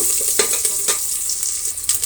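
Onion tempering for sambar sizzling and frying steadily in hot oil, a continuous bright crackle with occasional sharper spits and stirring scrapes, close and fairly loud throughout.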